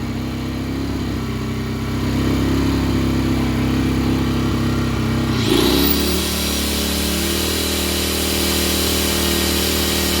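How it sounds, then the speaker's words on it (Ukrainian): A motor drones steadily with a sharp whine sweeping in midway as a 750 W angle grinder, powered by a RATO 700i inverter generator, spins up and runs continuously, close and loud. "Зараз ми попробуємо болгарку 750 Вт."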